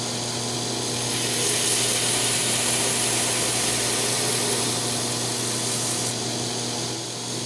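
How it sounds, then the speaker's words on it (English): A belt grinder fitted with a 10-inch wheel grinds a hollow bevel on a Damascus steel woodworking chisel, giving a steady, loud, continuous abrasive whir that swells slightly and holds without pause. "I use a 10 inches wheel on my belt grinder because I like the look of hollow bevels on a chisel."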